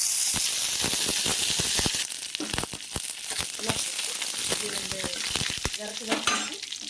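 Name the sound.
mustard seeds sizzling in hot oil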